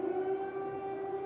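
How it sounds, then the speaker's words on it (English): Air raid sirens wailing across Ukraine, a steady sustained tone held without pause, fairly distant and even in level, with no voices. "Sirens wailed across much of Ukraine Saturday."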